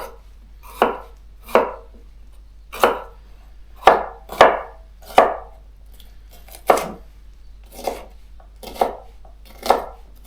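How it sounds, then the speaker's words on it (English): Knife chopping food into cubes on a cutting board, about a dozen crisp, separate chops at an irregular pace, close and fairly quiet, with no talking. "And the other half I'm going to cut into cubes for my quesadillas and my stir fry"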